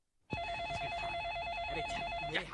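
An electronic phone ring starts abruptly and warbles steadily in a pulsing tone, fairly loud and close, with no talking.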